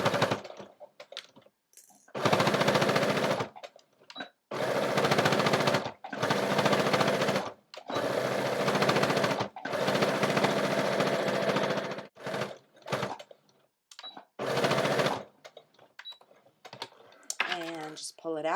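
A sewing machine stitches a strap on a bag made from an upcycled T-shirt, running in several fast, steady bursts of rapid mechanical whirring separated by short pauses, heard up close, with someone speaking briefly near the end.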